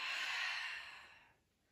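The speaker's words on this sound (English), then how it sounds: "we're inhaling here on the up, and we're exhaling on the down" A deep, slow exhale during a beginner yin yoga and qi gong practice: one breathy rush of air, fairly close and soft, that fades out over about a second and a half with no talking.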